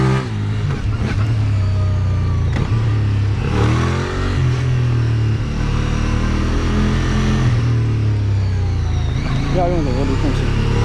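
A QJmotor SRK 550 with a 270-degree two-cylinder engine revs up and down while being ridden, its note rising and falling, loud and continuous, with someone talking over it.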